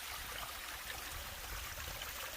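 Mountain stream rushing straight down a steep rocky trail waterfall on the Appalachian Trail in New Hampshire, a steady broadband roar, loud and close, with no voices.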